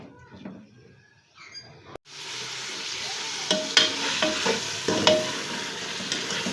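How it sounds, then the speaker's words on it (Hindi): Mutton pieces fry with whole spices in hot oil for a dal gosht, a loud steady sizzle that bursts in suddenly after a quiet start, with scraping stirs and clinks on top. "गोश्त को हम लोग खड़े मसालों के साथ उस वक्त तक भूनेंगे जब तक कि गोश्त का कलर जो है ये चेंज ना हो जाए"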